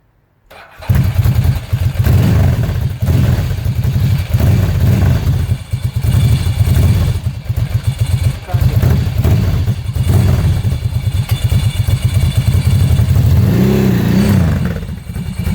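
A Ducati motorcycle engine with a dry clutch running steadily at idle, loud and close, with a rapid throbbing pulse and a slight rise in revs near the end.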